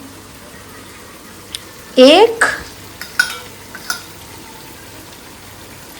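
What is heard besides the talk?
tamarind water poured into sambar and stirred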